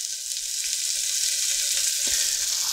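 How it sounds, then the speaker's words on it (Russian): Vegetables sizzle and crackle steadily in hot oil in a pot, a close, continuous frying hiss with no one speaking. "Овощи хорошо обжариваются."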